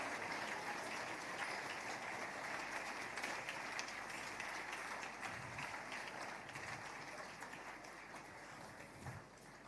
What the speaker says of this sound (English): Wow, keep the applause coming.